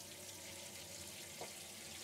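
Hot water running from a monoblock tap in a caravan: a steady, close, full hiss of flowing water that holds unchanged throughout, with no talk.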